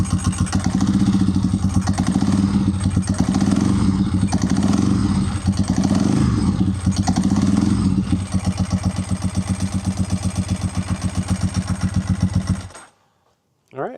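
A motorcycle engine idles steadily and close by, a dense rapid mechanical clatter running nearly nonstop for about thirteen seconds before cutting off into brief silence, with a faint sound returning at the very end.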